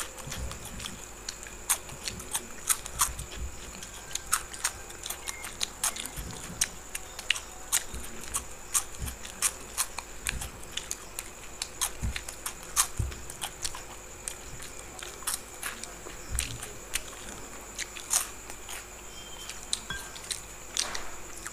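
Crunchy masala chips being bitten and chewed in repeated sharp crunches during an eating competition, close up over a steady background hum, with no talking.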